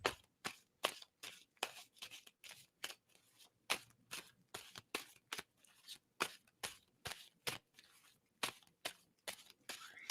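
Tarot cards are shuffled by hand in quick riffling bursts, the crisp flicks coming in an irregular rhythm with short pauses between, close but fairly quiet, with no talking.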